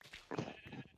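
Sheep bleating in the Minecraft video game, a short wavering game-sound bleat rising over faint background noise, with no talk during it.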